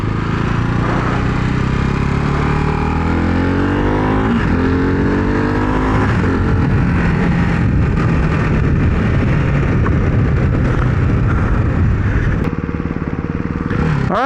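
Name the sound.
Ducati Hypermotard 698 Mono motorcycle engine accelerating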